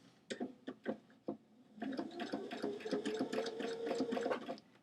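A sewing machine stitching lace onto a T-shirt sleeve gives a few separate clicking stitches first, then settles into a steady whirring run of rapid stitching that continues to the end, close and fairly quiet.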